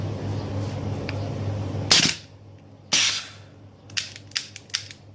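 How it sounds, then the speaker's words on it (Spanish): Airsoft gas blowback pistol failing in the cold: two sharp hissing bursts of gas venting close by, about a second apart, followed by a quick series of small clicks and taps in a quiet room. "no ha tenido fuerza siquiera para echar para atrás la corredera y entonces ha expulsado todo el gas de golpe"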